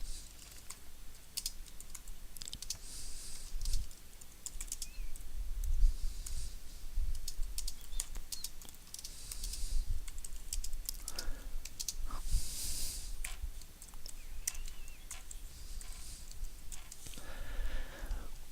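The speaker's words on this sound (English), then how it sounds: "So I type my note" Fingers tap rapidly on a computer keyboard at close range in a quiet room, a dense run of light clicks with brief pauses and a few heavier key strikes.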